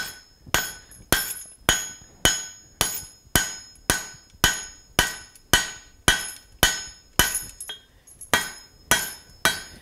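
Steel struck with a hammer on an anvil while forging a rivet header: about seventeen sharp, ringing metallic blows in a steady, even rhythm, close and loud, each decaying briefly before the next.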